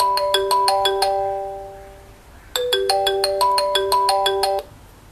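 A VoIP desk phone on a home Asterisk PBX setup running on a Raspberry Pi rings with a bright electronic trill, two bursts of rapid repeated tones separated by a short pause, close and clear with no talk.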